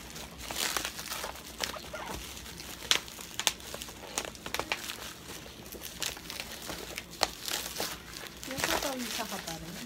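A parcel for a Gameboy 400-in-1 handheld console is opened, with plastic packaging crinkling and rustling in short bursts and sharp crackles close by, while people talk over much of it.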